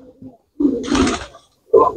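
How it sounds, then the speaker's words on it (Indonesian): A Gresik pigeon coos softly nearby in a few short, throaty bursts separated by brief pauses. "kalau untuk tampilan ya menurut saya ini merpati Gresik."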